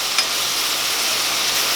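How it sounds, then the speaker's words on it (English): Ground meat for biscuits-and-gravy sausage gravy sizzles and fries steadily in a pan while being stirred and chopped, a continuous close hiss with a faint scrape near the start. "keep stirring that around, chopping it up finer and finer"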